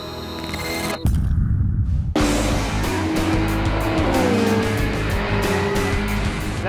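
A light car powered by a 3-litre V8 drives past loud and close, its engine roaring steadily after a sharp start, with tyre noise and a rising engine note underneath.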